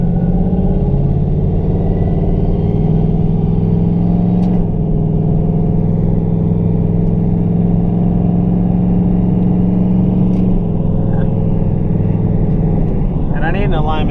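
A Ford Mustang with a TH400 automatic transmission drives on the street making non-boosted pulls, its engine droning loud and close in a steady, sustained roar, with a gear change around the middle and a brief disturbance near the end.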